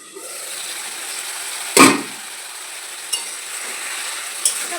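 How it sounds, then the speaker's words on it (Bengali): Chicken pieces fry in a pan with a steady, fairly loud sizzle, broken by one strong scraping stir and a couple of lighter utensil clinks. "জাস্ট একটুখানি আমি মাংসটাকে ভেজে নেব।"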